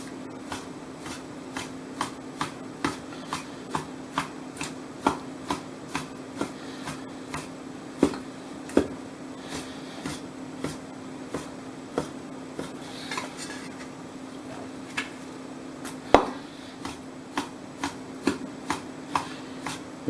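A knife slices sirloin steak for stir fry on a cutting board in steady, evenly spaced chops, close and crisp, repeating about every second with no talk.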